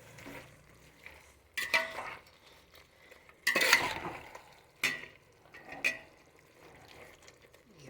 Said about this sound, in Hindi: और इसको हल्का सा चलाते रहिए।